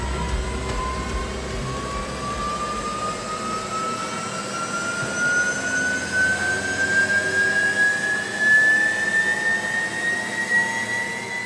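A Porsche Taycan Turbo S electric drive motor running on a factory test bench, a loud continuous whine steadily rising in pitch as it spins up, over a broad rushing roar.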